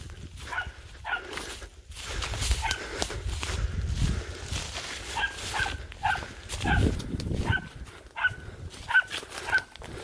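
Dog barking in a forest while it has found something among tree roots, with repeated sharp barks at irregular intervals, fairly close, over rustling movement and footsteps on the ground.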